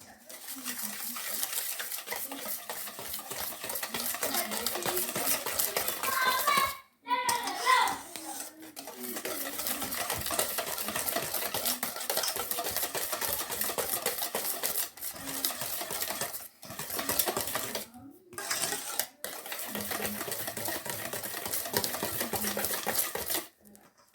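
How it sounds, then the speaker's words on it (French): Biscuit dough with 15 grams of yeast is mixed together in a bowl, giving a continuous busy whirring and clattering texture that stops briefly a few times before resuming, with no talking. "Nous allons mélanger le tout."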